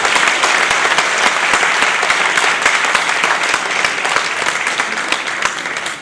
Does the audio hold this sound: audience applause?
yes